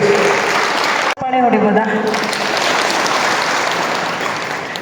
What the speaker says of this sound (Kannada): ಈ ಚಪ್ಪಾಳೆ ವೇದಿಕೆ ಮೇಲೆ ಆಸೀನರಾಗಿರುವಂತಹ ಮುಖಂಡರಿಗಲ್ಲ